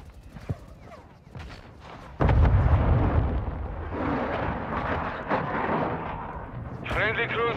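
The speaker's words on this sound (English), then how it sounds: "Our mortar strike is inbound." Mortar strike in a Call of Duty game: a few faint shots give way to a sudden heavy blast followed by rumbling, crackling explosions, with voices talking over the action.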